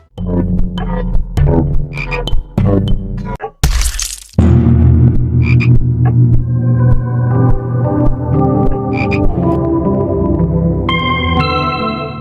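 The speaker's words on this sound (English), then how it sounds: "The Frog Lord has 2 attacks, one where it will vomit a puddle on the floor, on which Tabby can slip on" The Frog Lord boss in the horror game House lets out deep, loud croaks over heavy droning game music, broken by a sharp crashing burst partway through.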